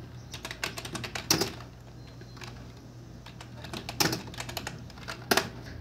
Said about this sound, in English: Once you type this in the search bar